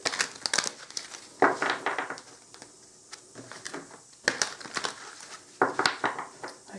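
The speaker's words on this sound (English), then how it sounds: "So I'm just going to give them a shuffle here." Tarot cards are shuffled by hand in repeated quick riffling bursts, each a papery crackling flurry separated by brief quieter gaps, close and fairly soft.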